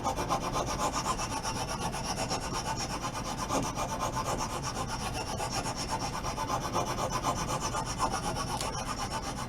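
A wood rasp's finer side scrapes a broken wooden table leg in fast, rhythmic back-and-forth strokes, close and loud, with no talking.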